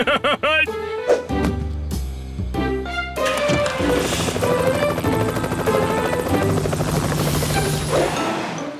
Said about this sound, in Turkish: Yürüyen uçaktan sonraki en büyük icat. Uçan otobüs.